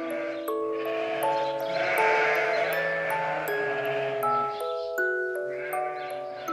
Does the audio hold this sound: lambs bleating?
yes